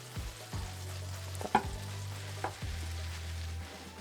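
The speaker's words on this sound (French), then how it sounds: "maintenant, nous allons faire revenir nos rösti et faire une magnifique galette" Grated rösti potatoes and onions fry in butter over medium heat, a close, steady sizzle with a few sharp clicks and scrapes of stirring, no voices.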